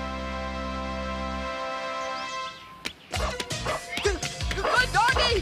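A cartoon dog barks, yips and whimpers in quick excited bursts close up, after a sustained musical tone cuts off, with a voice talking amid the barking.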